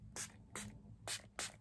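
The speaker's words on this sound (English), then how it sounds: "That is an aggressive spray," Purlisse Watermelon Energizing Facial Spray fires in four sharp, close-up bursts, each a brief forceful hiss of mist separated by short pauses.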